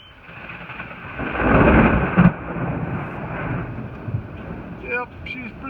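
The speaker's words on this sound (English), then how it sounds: "A little thunderstorm coming in here." Thunder from a nearby thunderstorm rumbles outdoors in a broad, rolling swell that peaks mid-clip with a sharp crack, then settles into a low grumble under wind noise.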